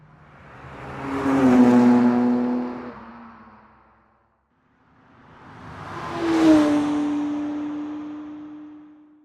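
Two synthetic car sound effects in turn, each a loud engine roar that swells, revs and fades like a car passing by, with a brief quiet gap between them and a steady high engine tone holding to the end.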